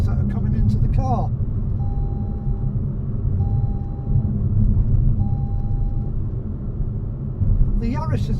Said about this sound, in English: Other road surfaces that aren't so good, you get a lot of tyre noise in the car.